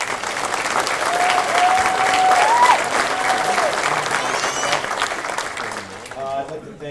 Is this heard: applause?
yes